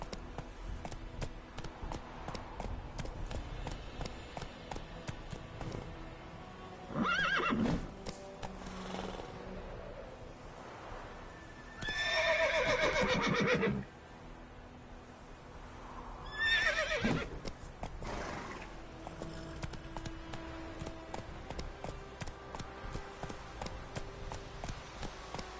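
Roach, Geralt's horse in The Witcher 3, neighs in three loud whinnies spread across the stretch, with a steady clatter of galloping hooves running beneath.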